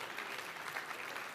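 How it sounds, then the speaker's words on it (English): Applause from a church congregation during a morning service: a steady, even patter of many hands, fairly faint and distant, with no voices over it. "Everybody give Waldo a round of applause for showing up and"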